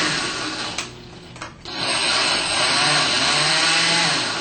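A food processor briefly pulses sliced tomatoes, giving a loud, close, steady whirring motor roar with a short pause between bursts.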